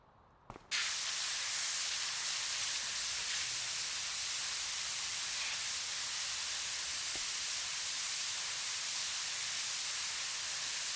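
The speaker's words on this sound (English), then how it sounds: "We'll try this one first, the multi-purpose cleaner." Multi-purpose cleaner spraying from a power-washer nozzle in a first-person cleaning game, a loud continuous hissing jet that bursts on after a short quiet start and holds steady to the end, with no talking.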